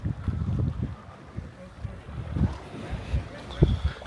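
Coastal wind while fishing in Bangor, Northern Ireland, gusts buffet the microphone in uneven low rumbles, rising and falling over a few seconds, with faint voices in the background.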